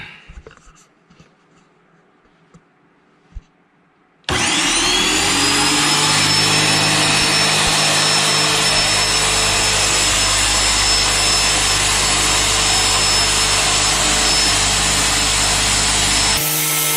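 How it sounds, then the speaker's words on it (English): A Graco Magnum X5 airless paint sprayer starts up for priming after a few quiet handling clicks, then runs with a loud, steady motor whine and pump drone before shutting off abruptly near the end. "Turn power on, and then allow fluid to flow up the suction tube and out of drain tube for 30 to 60 seconds."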